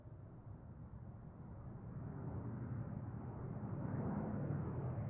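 An Embraer 175 jet departing Seattle airport, a broad rumbling engine roar that builds slowly in loudness as it climbs out, heard from a distance with no voices.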